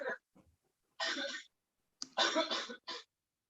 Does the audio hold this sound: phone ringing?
no